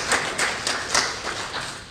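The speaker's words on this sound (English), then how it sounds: "You can applaud, it's all right." A small audience at a software editing demo claps in a short, light patter of applause, with steady background noise and no talk.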